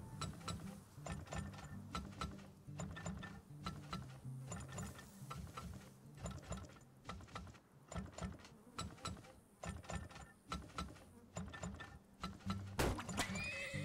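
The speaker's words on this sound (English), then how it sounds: "I feel confident with this extra horse now" A horse neighs and hooves clip-clop in the mining game Turmoil, mixed with ratcheting mechanical gear clicks and a steady busy background, with a sharp burst near the end.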